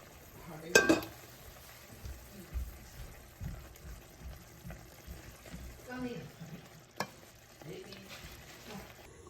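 Ground tomato fries for an Italian sauce, giving a faint, soft sizzle broken by a few sharp spoon scrapes and clinks against the pan while it is stirred.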